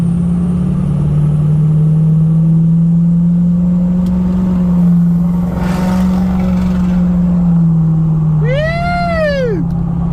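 A Ford 6.0 Powerstroke diesel fitted with a 12-inch exhaust tip runs on a dyno, a loud, steady droning hum that holds at an even pitch throughout, with a brief sweeping tone near the end.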